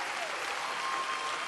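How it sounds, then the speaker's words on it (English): A church crowd applauds a band, a dense, steady roar of clapping filling the whole brief moment with no pauses. "Another round of applause for this amazing band."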